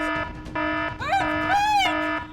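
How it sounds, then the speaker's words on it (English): A loud electronic alarm blares with steady tonal beeps, then rising and falling siren-like sweeps, continuous and close throughout. "We were just testing the alarms."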